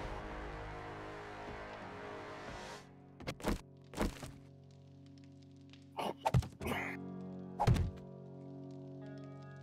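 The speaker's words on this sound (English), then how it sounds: "I'm felling trees, awesome, looks big." Trees being felled in the 7 Days to Die video game: a run of sharp, loud wooden thunks and chops, several single and doubled strikes spaced across the clip over a low steady game ambience.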